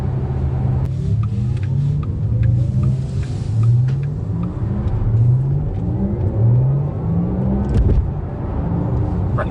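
A Porsche Taycan electric car accelerates with a steady, loud rising whine and road rumble, the motor pitch sweeping upward several times as if shifting gear.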